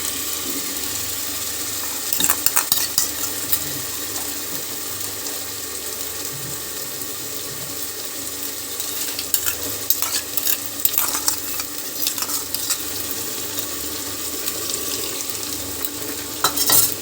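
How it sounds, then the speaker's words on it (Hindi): Onions with whole spices frying in mustard oil in a pan for Delhi-style mutton masala: a steady, close sizzle with occasional stirring scrapes and clinks, and no voices. "अब इसमें सभी मसाला डाल देते हैं, मसालों के साथ फ्राई करेंगे।"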